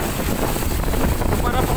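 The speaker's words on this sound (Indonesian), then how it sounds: "Angin semakin kencang" Strong wind gusts during a rainstorm in Medan, a loud, steady close rush of blustery air with rough rumbling buffeting.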